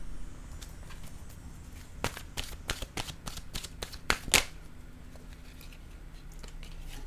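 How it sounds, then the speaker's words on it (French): An oracle card deck being shuffled by hand, a run of crisp riffling flicks that peaks in a louder burst before a card is drawn, close and alone with quiet room tone. "je vais choisir une carte de mon oracle de l'âme intuitive"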